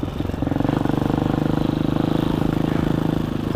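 An Amazon Hawk 250 enduro motorcycle thrums close up with a fast, even single-cylinder pulse while being ridden through high desert terrain, loud and steady with no talking.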